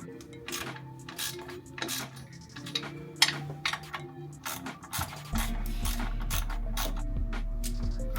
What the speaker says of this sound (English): Alright, now to torque these down.